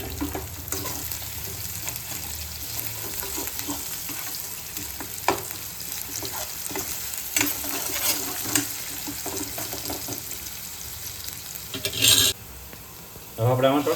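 Onions frying in a pan for misal, a steady crackling sizzle with occasional stirring scrapes and a few louder bursts near the end, no talking.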